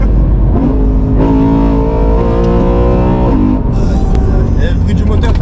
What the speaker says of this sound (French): Et le bruit du moteur, t'aimes bien?